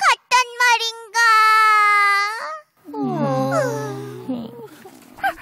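A puppy whimpers in a children's show, with high drawn-out whines and a long wavering cry, followed by lower warbling yelps. Close and fairly loud, it sounds voiced and may be a person imitating the puppy.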